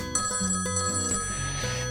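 A phone rings with a bright electronic ringtone, several repeating tones sounding clearly and alone for a couple of seconds.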